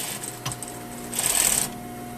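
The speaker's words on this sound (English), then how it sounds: "I'm going to sew from bottom" Sewing machine stitching a skirt lining from bottom up to a notch, a brief near motor whir swelling louder for about half a second, then stopping.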